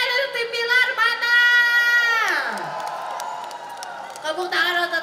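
A crowd of fans in Bandung cheers and shrieks for team Billar, loud sustained high-pitched screaming and whooping from many voices, including children, rising and falling with a swooping yell in the middle.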